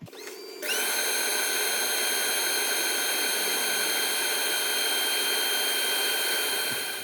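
Wooden hollow-form bowl spinning on a lathe while its recess is sanded, a loud, steady high-pitched whine with a rushing hiss that begins abruptly and holds without a break.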